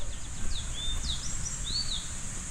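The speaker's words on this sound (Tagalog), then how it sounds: "natural na natural yung hunihan ng mga ibon" Birds singing in the open air on the descent toward Mayang Falls in Trece Martires, Cavite, several thin rising and falling whistles over a soft low background rumble.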